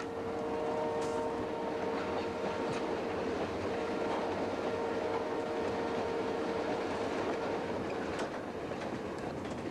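A passenger train rolls steadily along the rails through wintry northern Canada toward Churchill, a loud continuous rumble and rush with a faint steady tone and occasional clicks and squeaks, heard close from on board without talk.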